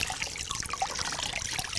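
Cold water trickles and drips softly onto a towel near the feet during a cold fomentation treatment, a faint, close, irregular patter.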